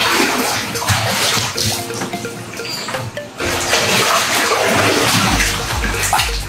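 Cold water pours and splashes steadily onto a person bathing, a loud, continuous, close rush with a brief lull midway and no talking over it.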